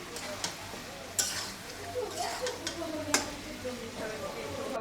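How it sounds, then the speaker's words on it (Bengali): Meat being braised and fried in a pan in a home kitchen, a constant low sizzle broken by a few sharp clinks and scrapes of a stirring utensil against the pan at irregular intervals. "মাংসটা কষানো হচ্ছে"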